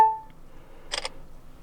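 A short beep from a Ulefone Armor 21 phone's self-timer is followed about a second later by a quick double shutter click as the camera takes the photo, crisp and close in a quiet room.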